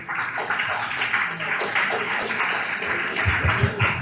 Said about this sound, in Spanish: Invitamos a despedirles con un fuerte aplauso a las autoridades que han estado con nosotros.